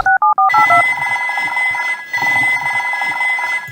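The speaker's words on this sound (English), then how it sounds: "The fire phone is ringing." Fire station telephone in a children's cartoon audiobook rings in a few quick electronic trills, then keeps ringing loudly and steadily in a bright, repeating warble.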